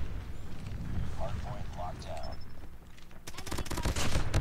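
PPSh submachine gun fire in the video game COD Mobile, a rapid burst of sharp automatic shots in the last second, preceded by game noise and a short voice.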